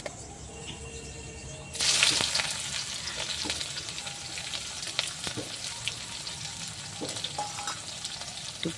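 Sliced onion drops into hot oil with dry red chilli and cumin in a pan for a pumpkin, potato and brinjal curry, bursting into a loud sizzle that settles into steady frying crackle with occasional stirring scrapes.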